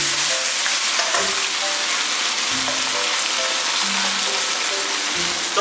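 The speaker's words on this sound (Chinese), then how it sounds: "锅烧热加一点油，油烧热把鸡肉放下去煎一下" Chicken pieces pan-fry in hot oil in a flat-bottomed or nonstick pan, giving a loud, continuous sizzle with dense spattering crackles and a few faint clinks in the background.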